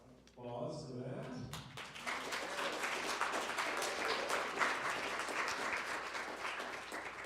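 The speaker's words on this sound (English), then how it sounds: "Applause for that." Online talk audience applause after a dance presentation, beginning with a brief voice, then a full, steady wash of clapping that holds at an even level to the end.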